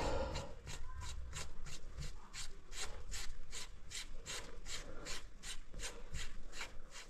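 An adjustable wrench unscrewing a telescopic bicycle seatpost gives a steady run of about sixteen rhythmic rasping, scraping strokes, close and even in loudness, with no talk.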